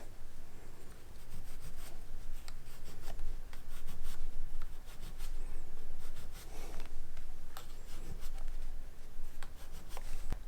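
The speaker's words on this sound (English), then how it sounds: "I'm going to measure from the seam 1/2 inch and draw it on the fabric" A marker drags steadily across fabric, drawing a half-inch seam allowance line for pajama pants, with soft scratchy strokes and light rubbing close by and no talking.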